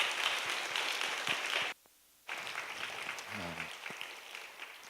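Church congregation applauding to welcome a missionary speaker at a youth service, a steady broadband patter of clapping that cuts out briefly, then resumes with a faint low hum underneath.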